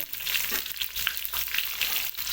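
Tomatoes going into a pan of frying chicken curry with bay leaves, a loud close sizzle and crackle with brief stirring scrapes, steady for a couple of seconds and no talk.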